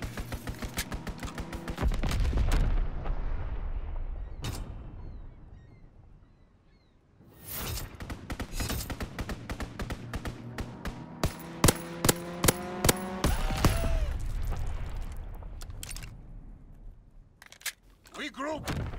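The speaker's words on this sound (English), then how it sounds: "Enemy strafing run inbound!" Rapid bursts of enemy strafing gunfire in Call of Duty WW2 multiplayer, loud volleys rattling repeatedly across the clip among explosions and whooshes, with a pause midway and voices talking over the action.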